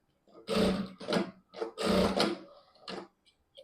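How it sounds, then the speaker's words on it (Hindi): A sewing machine stitches lehenga fabric in several short bursts of rapid mechanical whirring, separated by brief pauses and heard close up without speech. "यहाँ पे एक सिलाई लॉक लगा लेंगे सिलाई के बाद।"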